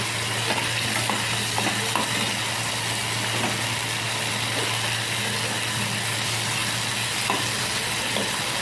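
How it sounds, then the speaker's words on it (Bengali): Yogurt is stirred into a spice mixture in an oiled pan while cooking fish, giving a continuous loud sizzle with occasional light scrapes and taps of the spoon, close and steady. "দইটা দিয়ে ভালো করে একটা মশলাটার মধ্যে মিক্স করে নেবো"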